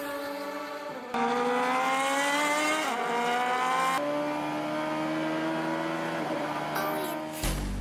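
A Toyota Prius hybrid race car from Team APR competing in Super GT racing, its engine screaming loud and steady through rising and falling gear-change sweeps, ending with a sharp burst.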